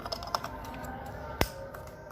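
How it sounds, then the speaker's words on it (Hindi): An ignition coil wire connector on a Toyota Corolla engine snaps into place with one sharp, crisp click, preceded by faint tapping and handling noises. "आपने इसको ये सिंपल अंदर प्रेस करनी है तो आपको क्लिकिंग साउंड आ जाएगी।"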